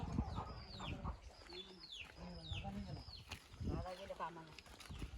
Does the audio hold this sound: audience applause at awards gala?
no